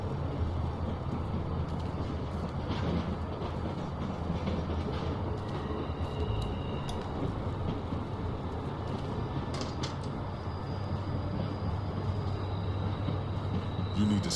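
A train rumbles along steadily with constant rolling clatter and faint squeals, close and continuous throughout, with no clear voices over it.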